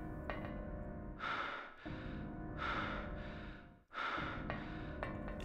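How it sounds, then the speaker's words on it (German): Heavy, rhythmic breathing of the player character in Silent Hill, three or four slow, close, breathy gasps at roughly even intervals, faint and unaccompanied. "nicht so schwer atmen"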